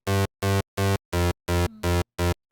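A UK hardcore rave bass synth built in Harmor stabs out seven evenly spaced, loud, buzzy notes, each a thick harmonic-rich tone cut off sharply, in a quick driving rhythm.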